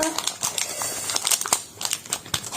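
Crinkly plastic of a Panini Harry Potter sticker packet being torn open and handled, a close run of sharp crackles and rustles in uneven bursts.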